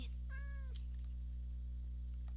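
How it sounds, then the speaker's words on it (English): A tamed cat in Minecraft gives one short, clear meow over a steady low hum, then quiet follows. "Yay, we have a new pet kitty."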